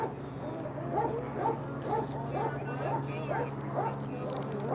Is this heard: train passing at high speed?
no